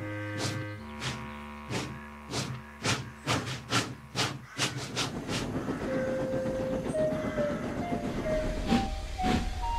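A steam engine towing a second engine and its train clanks and puffs in a steady, quickening rhythm up close, then settles into a continuous rolling rumble with a rising whistle-like tone.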